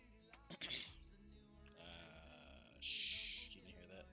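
A single low, throaty burp rolls out for a moment amid quiet background tones, with a short voiced grunt before it.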